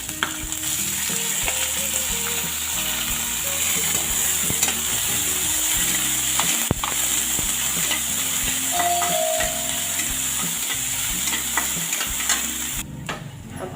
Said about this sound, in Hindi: अब हम ऐड कर रहे हैं यहाँ पर बारीक कटा हुआ प्याज।